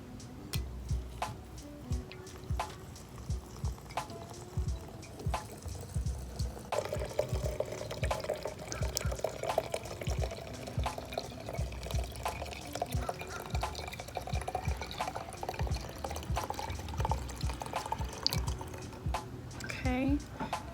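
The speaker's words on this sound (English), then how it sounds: "So what we're gonna do is just pour the rum." Rum pours and trickles into a jar of herbs with soft splashing and drips, close by and fairly quiet, with faint background clatter.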